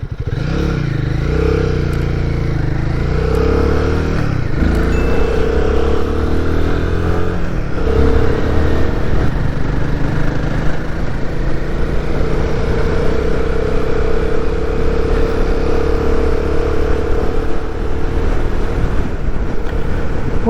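A Royal Enfield Guerrilla 450 motorcycle rumbles steadily while riding, with a loud, close engine drone, shifting pitch as it changes speed, and wind noise over the whole stretch.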